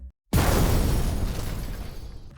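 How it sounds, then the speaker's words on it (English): A loud explosion sound effect for heavy metal production bursts suddenly with a dense, crackling full-range blast that rumbles and slowly fades. "Over here we got an explosion."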